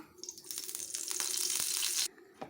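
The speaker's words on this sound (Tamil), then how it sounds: "எண்ணெய் ஊற்றிக்கலாம்." Cooking oil poured into a pan of masala-coated dried fish with a continuous liquid splashing and sizzling hiss that stops abruptly, followed by a brief clink.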